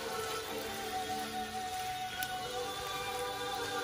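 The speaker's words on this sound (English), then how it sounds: "Gonna let it saute for a while." Chunks of lobster meat sautéing in ghee in a pan give a steady, close sizzle with dense fine crackle, like rain on a surface, running evenly throughout with no talk.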